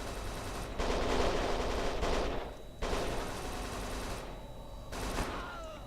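Heavy revolver gunfire in the video game Kane & Lynch 2, a dense, loud barrage of shots with a couple of brief pauses, broadband blasts packed close together rather than single clean reports.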